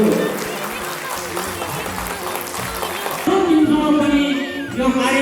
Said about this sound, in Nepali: सम्पूर्णले यसलाई ताली बजाएर स्वागत गर्न म विनम्र अनुरोध गर्दछु